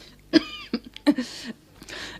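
An elderly woman coughs several times in close, harsh bursts, with throat-clearing rasps between them and brief breathy pauses.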